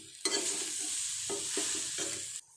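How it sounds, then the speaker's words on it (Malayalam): Curry leaves fry in a pan for tomato chutney as a spoon stirs them, giving close, scraping sweeps over a constant sizzle, ending abruptly. "കറിവേപ്പില അതും ഇട്ടിട്ടൊന്ന് ഇളക്കി കൊടുക്കണം."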